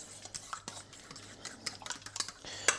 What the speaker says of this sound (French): que je finisse de bien mélanger